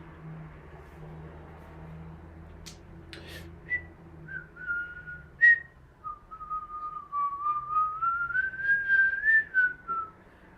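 A person whistles a melody alone during a Milwaukee Brewers vs Cincinnati Reds baseball broadcast, a steady sustained tune with gliding pitch following a few brief clicks, fairly close and clear over faint background hum.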